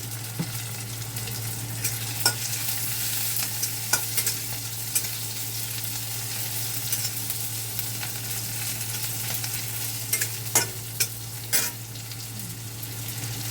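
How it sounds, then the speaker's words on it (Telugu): Ginger garlic paste and curry leaves frying in a pan, a steady close sizzle with occasional sharp stirring scrapes and taps, alone with no voices. "అల్లం వెల్లుల్లి పేస్ట్ వేసాను. అల్లం వెల్లుల్లి పేస్ట్ బాగా వేగాలి."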